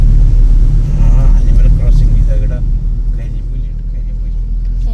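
A KSRTC bus drives on a forest road in Kerala with a loud, close, continuous engine rumble, and a person talks over it.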